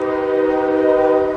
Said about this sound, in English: If you can hear that train in the background